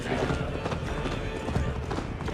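A horse gallops in Assassin's Creed Valhalla, rapid rhythmic hoofbeats pounding steadily throughout, close and prominent under a busy game mix.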